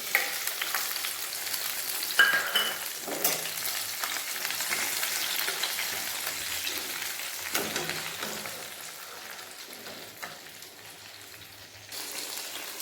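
A prepared spice paste hits hot oil with bay leaf in a pan for a Bengali bata fish curry with eggplant and potato, giving a steady loud sizzle with occasional stirring scrapes that slowly eases off.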